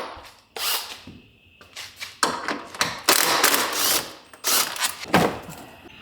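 A ratchet wrench works 10 mm bolts loose on a Tesla Model Y frunk area, giving bursts of rapid clicking and metallic rattles in irregular groups, close and fairly loud, with short pauses between.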